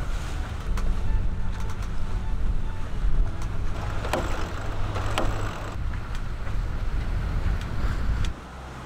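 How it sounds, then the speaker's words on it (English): A catamaran's jib flaps in strong Force 7 wind while beating upwind, with sharp intermittent snaps over continuous loud wind rush and water noise. "Jib's flapping a bit."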